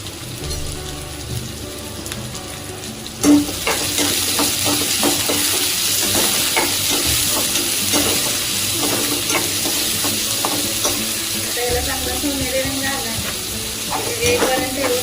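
Sliced onions fry in hot oil in a pan, a loud continuous sizzle that flares up as they are stirred, with scraping and clicking of the spoon against the pan throughout and no talking.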